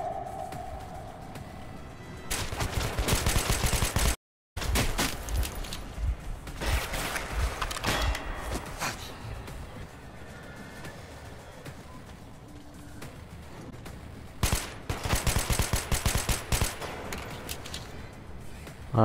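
Gunfire bursts in the video game Metro Last Light Redux, loud clustered shots in two main volleys separated by quieter mechanical clanks and rattling, with a brief dropout early on.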